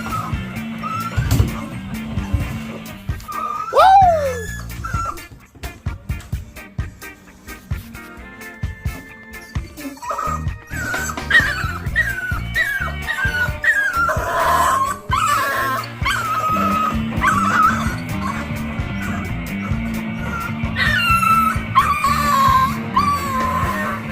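American bully puppies whimper and yip in high, thin squeals and cries on a homestead, scattered over a busy, continuous background of rustling, clatter and other noise.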